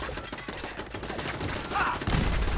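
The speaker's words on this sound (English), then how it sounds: "I'm getting shot" Gunfire in the survival-mode PC game Fallout 4 (Horizon mod): dense bursts of shots and thuds with the player taking hits, steady and fairly loud, with some voice mixed in.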